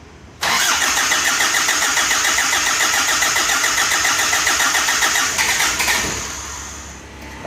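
An Isuzu Panther 2.3 diesel engine, under repair, cranks with a rapid starter rhythm for several seconds, loud and close, then catches and settles as the cranking fades.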